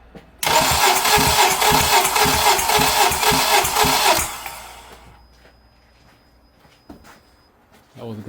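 The engine of a 2007 Acura TSX with a crank-no-start fault and a suspected burnt valve cranks steadily on the starter for about four seconds in a rhythmic, loud whirring chug, then stops, leaving quiet shop sounds and a faint clunk.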